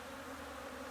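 Steady, close buzzing of honey bees during a beekeeping class, a continuous droning hum with no pauses and no voices.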